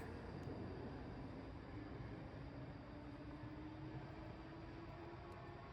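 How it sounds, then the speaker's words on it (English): A Class 56 diesel locomotive hauls the Prestwick to Grangemouth oil train, heard as a faint, distant, continuous rumble with a low engine drone that slowly rises in pitch, no voices present. "that's a Class 56 on the Prestwick to Grangemouth oil train"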